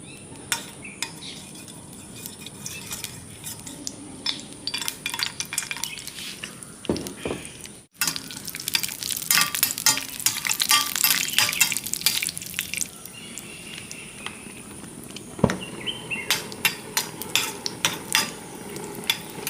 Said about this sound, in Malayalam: അടുപ്പത്ത് നമുക്ക് അണ്ടിപ്പരിപ്പ് മുന്തിരിയും വറുത്തെടുക്കാം.